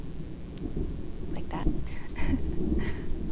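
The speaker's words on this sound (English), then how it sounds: "You might hear some thunder in the background" Outdoor thunder and rain during a storm, a low continuous rumble and rain hiss in the background with a few brief soft voice sounds over it.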